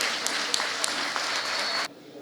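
Audience applause at a lawyers' panel dinner ceremony, welcoming a speaker to the stage: dense, steady clapping with a few sharper claps, then cutting off abruptly near the end.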